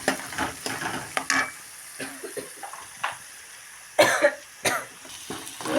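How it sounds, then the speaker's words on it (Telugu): Green chillies and onion dropped into a hot pan for a brinjal curry, giving intermittent sizzles and stirring scrapes in short bursts, with a few coughs in between. "మిర్చి ఆనియన్ వేస్తున్నా"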